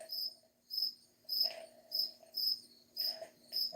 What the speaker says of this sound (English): It is real crickets, Captain Lee.